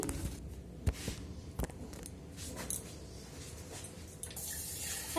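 Rice being washed under a running tap gives a faint close trickle of water, with a few sharp knocks and splashes against the pot scattered through it.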